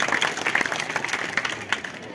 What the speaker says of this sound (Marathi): टाळ्या वाजवण्यासाठी.